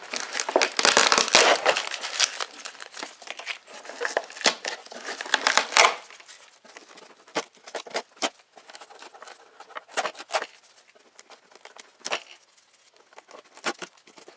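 Sticky tape peeled and crinkled off the subframe of a KTM 525 motorcycle, with bursts of ripping and crackling, loudest at first, then sporadic sharp tears and rustles close by with no talking.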